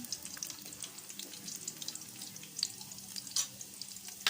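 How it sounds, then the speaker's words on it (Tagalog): Chopped garlic fries in a pan with a soft, continuous sizzle and light crackle, faint and close, with a few small clinks of stirring. "Nilagay ko na ang bawang."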